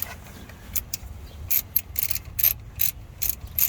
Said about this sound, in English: Use the side of your ratchet to force that in there.